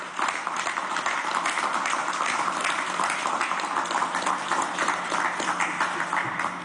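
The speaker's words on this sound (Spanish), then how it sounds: "de aquí le damos un aplauso" An audience gives a sustained round of applause during a government coronavirus briefing, dense steady clapping filling the whole stretch with no talk over it.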